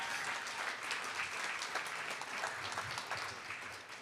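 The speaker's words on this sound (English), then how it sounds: "we want to give him a big round of applause for all he has done" Audience applause for Craig at a New York tech meetup marking Civic Hall's anniversary, a dense, steady wash of clapping from a sizable crowd that holds evenly throughout.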